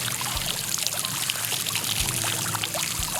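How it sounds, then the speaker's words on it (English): Water pours steadily over the mast connector of a Waydoo Flyer ONE electric hydrofoil as it is rinsed to clear salt buildup, a continuous close splashing and trickling with occasional low thumps. "Give it a good 30-second rinse to get rid of any salt buildup."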